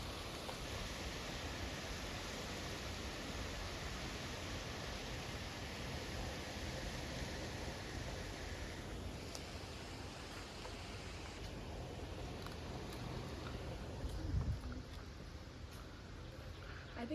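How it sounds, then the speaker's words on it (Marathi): Lingmala Waterfall near Mahabaleshwar gives a steady, dense rushing roar of falling water, constant and even throughout, with no speech. "आवाज ऐका पाण्याचा"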